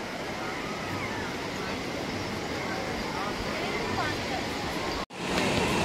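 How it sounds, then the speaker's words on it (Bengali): Small sea waves washing onto Digha beach on a busy morning, a continuous broad rushing surf with faint crowd babble underneath, cut by a brief dropout near the end. "দেখো ঢেউগুলো দেখো,"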